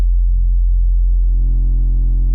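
A loud, steady synthesized sub bass tone holds a deep fundamental throughout, with faint upper harmonics gradually creeping in as it sustains.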